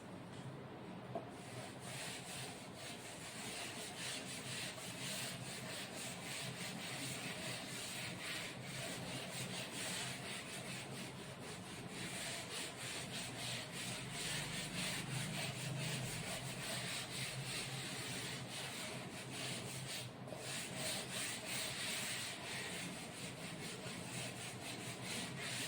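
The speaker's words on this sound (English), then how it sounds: "Let us rub the board" A duster rubbed across a classroom board in a long continuous scrubbing rasp, steady and faint throughout with slight surges and no talk.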